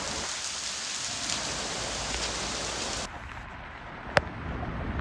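Heavy rain pours as a dense, steady roar while someone cycles through it, close and loud, easing slightly partway with a brief sharp knock near the end.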